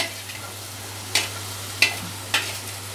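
Soft pointed gourd seeds are added to a pan of frying onion, garlic and chilli, making a low sizzle under a steady hum, with three sharp scraping stirs spaced about a second apart.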